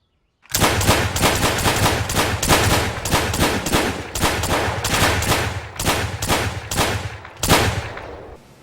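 A machine gun fitted with an extended magazine fires loud, close, sustained automatic bursts for several seconds. The bursts are broken by brief pauses and there is no speech.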